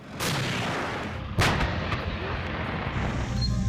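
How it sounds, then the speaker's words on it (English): An M1 Abrams tank fires its 120mm L55 Rheinmetall smoothbore cannon. Two loud, sharp booms come about a second apart, each leaving a long rumbling tail. "a 120mm L55 smoothbore cannon made by Rheinmetall that can penetrate reinforced walls"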